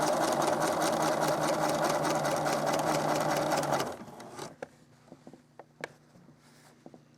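A sewing machine stitches a faux fur appliqué about an eighth of an inch from the edge, whirring steadily and close for a few seconds. It then stops, leaving soft scattered clicks and rustles of handling.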